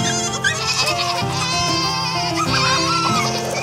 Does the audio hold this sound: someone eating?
no